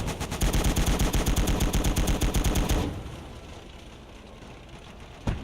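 Rapid machine gun bursts from a World War II strategy game on the Eastern Front, a loud steady rattle of evenly spaced shots for about three seconds, then quieter battlefield rumble and one more distant thud.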